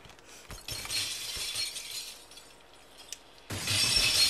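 Glass shattering in the physics game Happy Wheels: a bright, crisp smash rings out and fades, then a second crashing burst of breaking glass hits later, loud and without voices.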